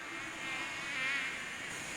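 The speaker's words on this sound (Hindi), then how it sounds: "ये मधुमक्खियों की आवाज है।" Steady insect buzzing, likely bees near a hive on a lava field, holds at a constant drone throughout without pauses or voices.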